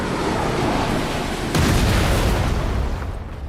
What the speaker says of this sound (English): the sound of the cannon itself is terrifying